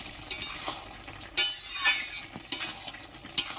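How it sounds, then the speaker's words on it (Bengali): A spoon stirs a taro and prawn curry in a pan, giving soft scraping and several sharp metallic clinks against the pan, fairly quiet and spread out, with no talking. "লবণটা দিয়ে বেশ সুন্দর করে আমি আবারও নেড়ে চেড়ে নিচ্ছি"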